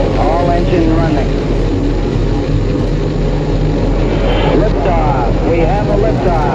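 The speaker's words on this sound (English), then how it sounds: "Liftoff, we have a liftoff, 32 minutes past the hour. Liftoff on Apollo 11." Apollo 11 rocket engines at liftoff, a loud continuous roar with deep rumble and broadband rush, with a voice talking over it throughout.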